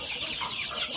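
Brahma chickens on a poultry farm giving soft, quick clucks, a brief faint burst of bird calls close by with no talk over it.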